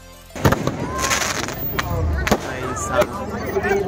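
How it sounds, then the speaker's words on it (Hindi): Fireworks crackle and pop in sharp bursts amid a noisy outdoor Indian wedding procession crowd, with voices talking throughout and several loud bangs. "इतनी ज़्यादा आतिशबाजी हो गई"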